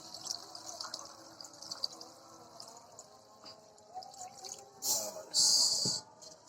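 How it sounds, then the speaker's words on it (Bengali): Hot water is poured into a cooking pot of beef shank and raw jackfruit curry, two short bright splashing bursts near the end over a low background of kitchen clatter. "পানিটা দিয়ে দিলাম,"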